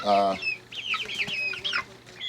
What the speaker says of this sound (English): let's go take a look and talk about our juvenile chickens